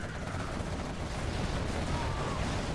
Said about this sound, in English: Oh, now we see the fight of the rocket buggies.